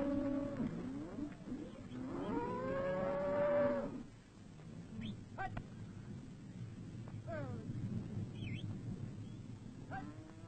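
Cattle from the great northern herds in Nigeria moo loudly, one long low call up close followed by fainter moos and other animal calls amid farm background noise.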